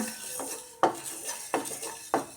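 Mustard and fenugreek seeds dry-roasting in a pan as a metal spoon stirs them, with four sharp scraping clinks against the pan over faint rattling seeds.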